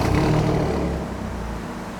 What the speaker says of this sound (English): So I'm going to start the car up first in D